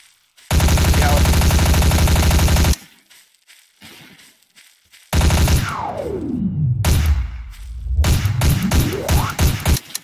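Loud automatic gunfire rattles in Garry's Mod, with a long sustained burst followed by choppier volleys and quick rising and falling whooshing tones, all close and without speech.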